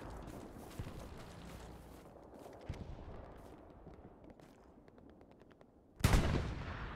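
Gunfire in a competitive multiplayer shooter video game, with scattered distant shots and impacts through the first six seconds, then a sudden loud close burst near the end; players talk briefly over it.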